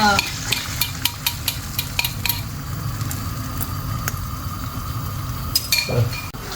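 An egg fries in melted butter in a pan: a continuous close sizzle runs throughout, punctuated by sharp utensil clicks and taps against the pan, with no voices.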